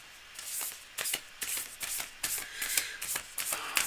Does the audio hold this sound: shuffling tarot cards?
yes